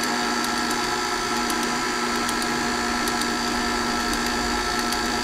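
An electric mixer steadily beats an egg, orange juice and orange zest into cranberry walnut cookie dough, a continuous even whir with faint clicks throughout, close and constant.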